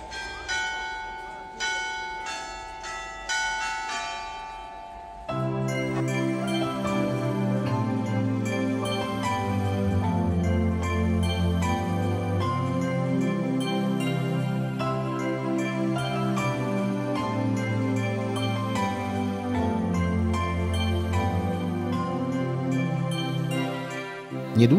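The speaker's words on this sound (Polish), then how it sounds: "Zawieszone na wieży cztery dzwony co godzinę wybijają melodię Ave Maria z" Four church tower bells at Lourdes chime the Ave Maria melody, each note ringing out with a long decay, first as a few sparse strikes and then as sustained overlapping tolling that fills the rest of the stretch, with no voices.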